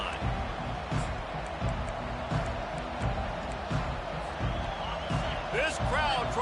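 A stadium crowd at a college football game roars in a sustained, distant wash of cheering after a kickoff touchback, with a few whistles and shouts rising near the end.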